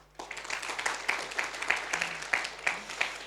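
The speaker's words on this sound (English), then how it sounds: "give a big round of applause to all of you who have made this conference happen" A conference audience gives a round of applause at an HR technology event, a soft, fairly distant crowd clapping that rises quickly and holds steady with distinct individual claps.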